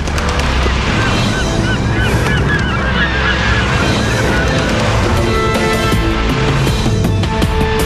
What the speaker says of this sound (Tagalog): Malagpasan kaya ng mga nanghihinang ibon ang pinakamatinding hamon?